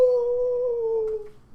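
A player imitates the howl of a character named Brox, giving one sustained, wavering howl that slowly drops in pitch and trails off, close and clear against a quiet background.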